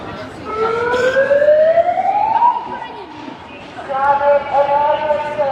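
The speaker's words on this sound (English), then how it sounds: "Our rebels are signalling the emergency with their sirens." Sirens wail nearby at a climate protest in Rundle Mall, one sweeping upward in pitch and then others joining in layered tones, with crowd noise underneath.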